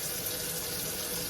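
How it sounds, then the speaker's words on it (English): Hot water runs steadily from a kitchen tap into a sink, a loud, continuous close rush of water with no talking. "run some hot water over this"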